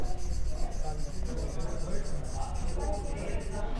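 Pen or marker scratches steadily as someone writes by hand on a board or paper, a faint, continuous rubbing texture.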